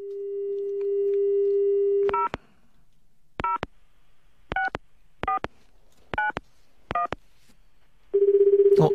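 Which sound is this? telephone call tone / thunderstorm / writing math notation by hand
telephone call tone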